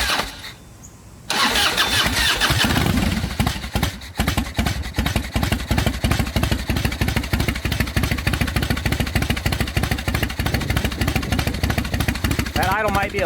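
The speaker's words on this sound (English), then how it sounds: "That idle might be a little bit low," A cold Harley EVO motorcycle engine cranks briefly and then fires, settling into a loud, steady, lumpy idle with a rapid even throb that continues close by to the end.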